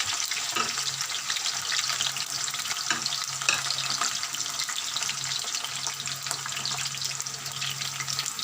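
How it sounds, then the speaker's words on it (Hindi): Potato chips frying in hot oil in a pan, a steady bubbling sizzle with occasional stirring clatter, close and continuous throughout. "इसमें हम आलू की चिप्स को फ्राई करेंगे।"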